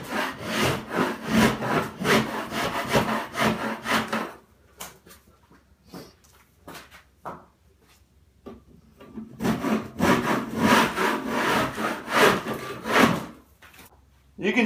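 A scraper rasps across textured popcorn ceiling in quick repeated scraping bursts, close and fairly loud, with a quieter pause in the middle before the strokes resume.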